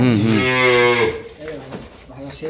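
Jersey dairy cow with a calf on a farm in Dinajpur, giving one long, loud, close moo that fades out, followed by quieter farm sounds and a voice talking.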